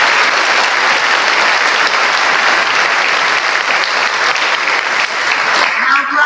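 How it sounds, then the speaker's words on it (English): Loud, close audience applause at a class of 2024 promotion ceremony, a dense unbroken wash of many hands clapping that stays steady throughout with a slight dip near the end. "Let's give them a big round of applause."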